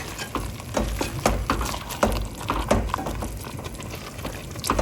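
Beef curry with hand-cut spices bubbling at a rolling boil in a pot, a dense, steady bubbling with soft liquid pops and occasional stirring clatter, close and fairly loud with no talking.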